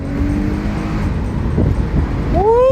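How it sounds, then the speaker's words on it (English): An Acura TL car accelerates in a 25 mph pull, its engine note climbing loudly and steadily before a sharp upshift-like sweep near the end, with no talk over it. "Rolling around the Acura here, let's do a 25-mile-an-hour pull."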